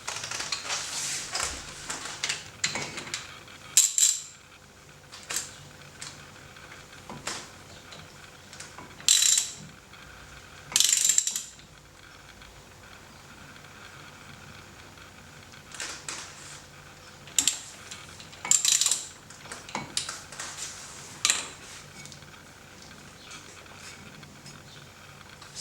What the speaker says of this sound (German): Ich ziehe jetzt hier noch den Imbus fest, damit sich die Sicherungsschraube hier nicht mehr dreht.